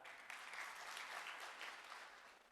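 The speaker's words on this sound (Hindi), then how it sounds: "जोरदार ताली।" An audience at an education session in Visnagar breaks into loud, sustained applause, steady, dense clapping from a large crowd with no talking.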